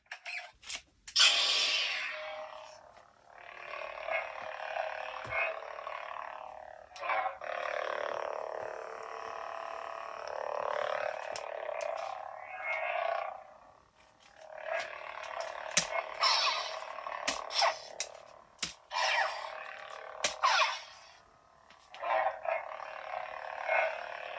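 Electronic hum and swooshing buzz of a Star Wars Galaxy's Edge Mace Windu Legacy toy lightsaber blade, repeated surges and crackling clashes, fairly loud with brief pauses between bursts.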